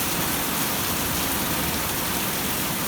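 Steady rain falls outdoors onto fabric pots and a corn garden, a dense, even hiss of drops at constant loudness with no breaks or voices.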